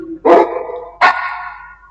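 A dog gives two loud, close barks about three-quarters of a second apart, each tailing off, with no other sound around them.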